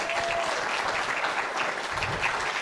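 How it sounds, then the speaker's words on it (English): An audience at a community memories event in Doylestown, PA, gives a full round of applause: dense, steady clapping that fills the moment from start to end. "let's give these guys a full round of applause"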